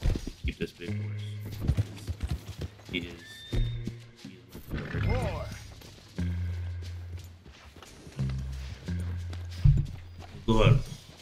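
Horse hooves walking in the Red Dead Redemption video game, with intermittent clip-clop steps and occasional snorts or whinnies, heard under and between game voices.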